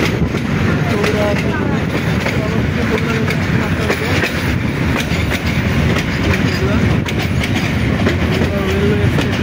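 Dolonchapa Express train rolls through Bogura railway station with a loud, continuous rumble and rhythmic wheel clatter over the rails, close by and steady throughout.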